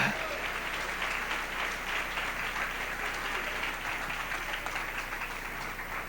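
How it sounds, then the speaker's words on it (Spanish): A church congregation applauding continuously during a service, a thick wash of clapping that holds steady throughout. "Dele ese aplauso al Señor."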